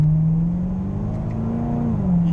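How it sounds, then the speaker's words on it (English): A Chevrolet C7 Corvette's exhaust drones loudly from inside the car, the engine note climbing steadily under acceleration and then dropping sharply at a gear shift. "You hear all the exhaust getting very loud as we go through the shifts"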